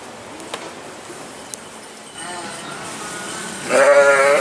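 Quiet ambience with a couple of faint clicks, then a sheep bleats loudly and close by near the end.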